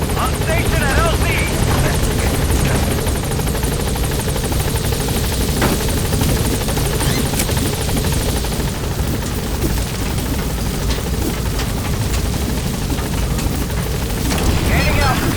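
The Pequod helicopter from Metal Gear Solid V arrives at a landing zone, its loud rotor thrum and engine roar steady throughout, with a radio voice speaking over it.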